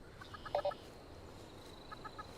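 Clucking from a chicken in the video game Fallout 76: a few soft clucks near the start, then a brief trio of faint clucks near the end, over a low steady game ambience.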